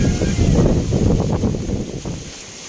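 Strong typhoon wind roars and buffets the microphone in a steady low rumble that eases slightly toward the end, with no voices.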